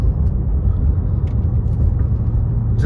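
A car drives through thick fog at Big Bear Lake, California, a loud steady low engine and road rumble inside the cabin with no talking.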